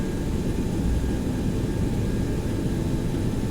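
Boeing 727-200F jet engines at takeoff power in X-Plane 11, a dense, steady, loud roar with a faint tonal whine, heard alone without talk.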